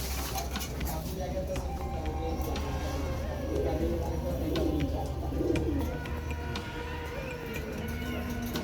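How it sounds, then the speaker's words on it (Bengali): Silver pigeons coo softly and repeatedly in a loft, with the low cooing swelling in the middle, over a low background hum and a murmuring voice. "সব সিলভার কবুতর"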